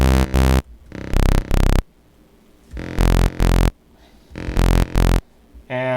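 Paired bursts of a loud, buzzy synth saw bass from Ableton Operator, a rhythmic bass pattern with short gaps between phrases and no talking.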